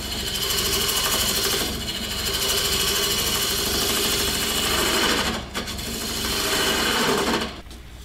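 A wood lathe turning an off-center tea light holder while a tool cuts slowly, giving a steady loud whirring grind that dips briefly near the end.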